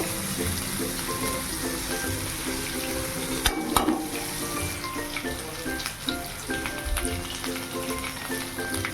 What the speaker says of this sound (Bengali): তারপরে দিলাম টমেটো একটু নাড়াচাড়া করে একটু আদা গ্রেট করে দিয়ে দেবো